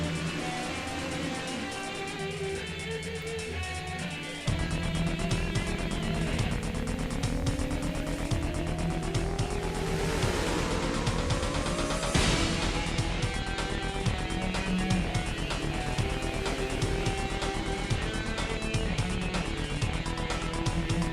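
Race cars roar around Pocono in the NASCAR Racing 2003 video game, a dense, continuous engine drone whose pitch sweeps upward as the pack accelerates, loud and steady throughout.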